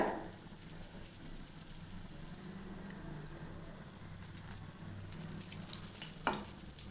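Sweet urad dal vadas with coconut and semolina fry slowly in oil over a low flame. The sizzle is a soft, steady hiss with one faint clink near the end, and no one speaks.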